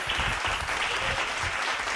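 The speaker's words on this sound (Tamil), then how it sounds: "கைத்தட்டுங்க" A church congregation at a Tamil Sunday service claps together in dense, continuous applause, loud and close throughout.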